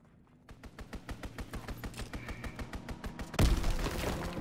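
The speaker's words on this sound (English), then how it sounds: "Strafing run inbound." Rapid, evenly spaced bursts of aircraft strafing gunfire in Call of Duty WWII, growing louder over a few seconds and ending in a heavy explosive impact.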